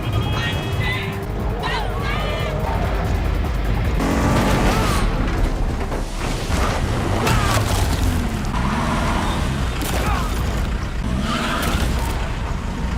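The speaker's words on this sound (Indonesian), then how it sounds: "Dengan segera si kurir memacu mobil box sebelum kehilangan targetnya." A courier's box van speeds off hard, with engine roar and tyre squeal over busy, dramatic film audio that keeps up throughout.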